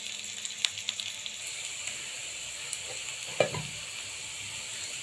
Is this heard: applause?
no